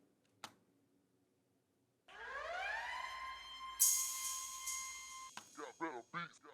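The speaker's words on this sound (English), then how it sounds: "my transition effects sounds, which are there's a siren and a cymbal" After a short click, a siren sweeps upward and holds a steady wail, a cymbal-like crash bursts in partway through, then a voice begins talking.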